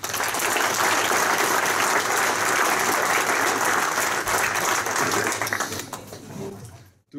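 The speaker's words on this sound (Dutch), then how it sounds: "Hans, voor Hans een hartelijk applaus." A large audience at a New Year speech by the chairman of football club De Graafschap gives sustained, hearty applause, a dense steady roar of clapping that fades out near the end.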